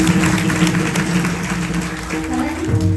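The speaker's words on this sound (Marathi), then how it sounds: "त्या असणाऱ्या सुप्रियाताई साठे यांच्याकरता एकदा जोरदार टाळ्या" An audience at a kirtan gathering claps together in a dense, steady burst of applause that fills the whole moment, with some voices mixed in.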